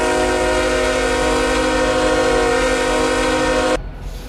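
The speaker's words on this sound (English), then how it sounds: "Sound the horn." Diesel freight train horn in the RO-Scale Sandbox game, a loud steady multi-tone chord held for nearly four seconds and cutting off abruptly to a low rumble, with no voices.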